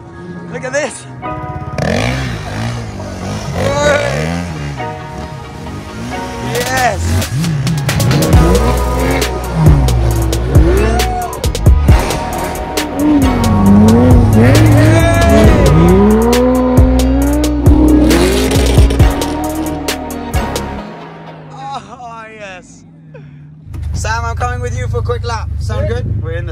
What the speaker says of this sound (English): we get to drive each other's cars and see how they handle on snow and ice